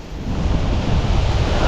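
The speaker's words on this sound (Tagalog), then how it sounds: "Ang lakas ng hangin." Strong wind roars and buffets against the microphone in a loud, continuous rush.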